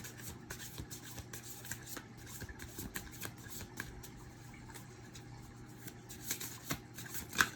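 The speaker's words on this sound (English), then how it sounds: "Let's do another shuffle here." Tarot cards are shuffled repeatedly at close range, a steady run of soft riffling flicks and taps with no talking.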